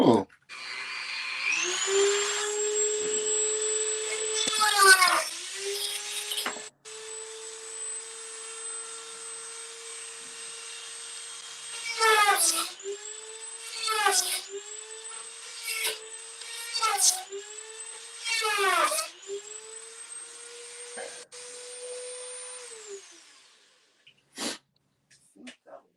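Power drill whining in long sustained bursts, its pitch dipping and rising as the load changes, with short pauses between runs and a few sharp clicks near the end.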